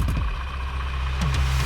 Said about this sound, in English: First thing you want to do is run your engine for 5 minutes and get the oil nice and warm.